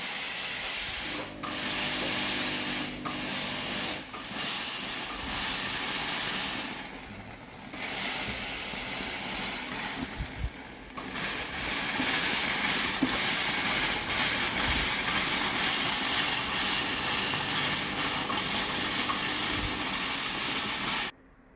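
A Philips or Tefal steam iron being descaled hisses steadily as it releases water and steam, a continuous rushing spray with brief gaps and sputters, close and alone.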